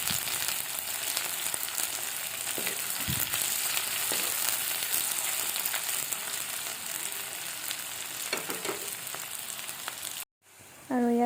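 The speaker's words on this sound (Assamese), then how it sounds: "তেল গৰম হোৱাৰ পিছত মই এতিয়া কাটি লোৱা পিঁয়াজ আৰু জলকীয়া দুটা দি দিছোঁ।" Sliced onions and two green chilies fry in hot mustard oil in a wok. There is a loud, constant close sizzle with occasional stirring scrapes, and it cuts off briefly near the end before resuming.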